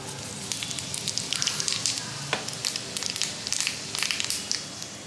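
Cumin seeds and asafoetida sizzling in hot oil in a home kitchen pan, a steady crackling fry with scattered pops throughout, moderately close and without talk.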